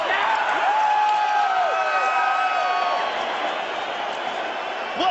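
A stadium crowd of 55,000 roars and cheers at a UFC fight, a sustained wall of distant crowd noise with whistles and whoops, while a commentator talks over it.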